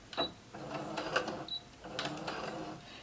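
A sewing machine back stitches a knit fabric hem in short, fairly quiet mechanical whirring bursts, starting and stopping a few times.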